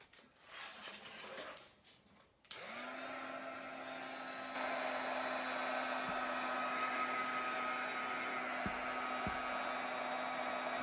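Hair dryer switches on with a click after some handling noise and then blows steadily at a loud, even whine, drying acrylic paint on a mixed media card, with two brief dips near the end.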